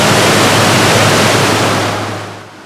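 Second Falls on the North Fork of Big Pine Creek rushes with steady, loud, broadband white water, fading somewhat toward the end, with no voices.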